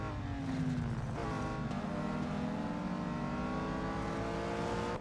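Race car engine in the Real Racing 3 video game, a revving motor climbing through the gears with a shift partway, steady and close with no talk.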